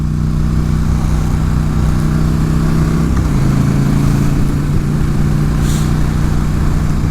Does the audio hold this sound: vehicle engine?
yes